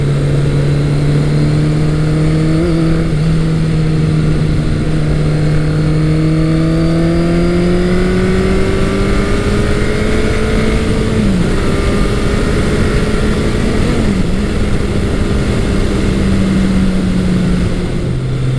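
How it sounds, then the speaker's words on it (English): A Kawasaki ZL900 Eliminator muscle cruiser motorcycle holds a smooth, steady engine drone at about 60 mph, the pitch gently rising and dipping with a couple of small shifts, loud and continuous over rushing air. "this really is a nice bike to ride. I can do speeds. I'm doing 60 right now, and it's very, very smooth"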